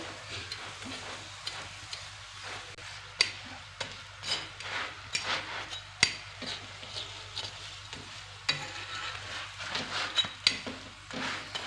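A paratha roll frying slowly on a low flame, with a soft sizzle broken by repeated scraping and pressing taps of a spatula against the pan, irregular and close.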